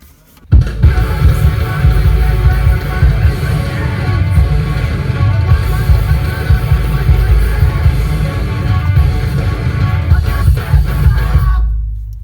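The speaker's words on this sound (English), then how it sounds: "It's like hardcore math rock kind of deal." Loud hardcore math rock by Tiny Hawks plays from a CD in a car, dense distorted guitars and drums driving continuously before cutting off at the end.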